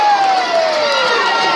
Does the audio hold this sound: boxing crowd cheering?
yes